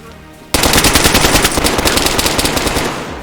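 Automatic gunfire in DayZ: after a short quiet moment, a loud rapid burst of shots rattles on continuously for nearly three seconds, close and harsh, then begins to fade.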